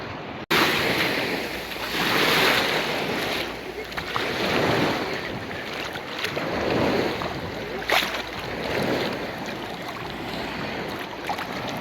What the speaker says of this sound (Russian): Волнуется сегодня озеро.